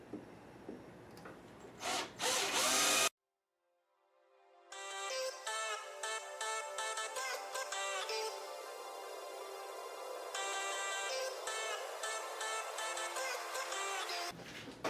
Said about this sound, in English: Got my Ryobi driver I got for free at like a sale